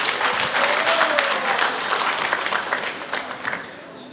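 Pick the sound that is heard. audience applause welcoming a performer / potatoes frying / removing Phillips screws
audience applause welcoming a performer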